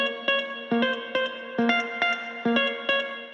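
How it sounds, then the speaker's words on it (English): An effected electric guitar melody with distortion, chorus and echo, plucked in steady repeating notes about every half second, each note ringing out with a trailing tail, loud and upfront with no voices. "I also added this guitar melody."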